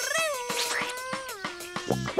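An animated cartoon cat meows in a long, drawn-out, falling tone, followed by shorter chirpy sounds, close and clear over a quiet background.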